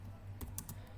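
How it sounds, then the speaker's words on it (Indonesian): Keys clatter on a computer keyboard while a network address is entered on a Debian 11 Linux system, giving three or four quick, close taps spaced unevenly over a steady low hum. "Jadi saya tulis atau saya ketik di sini"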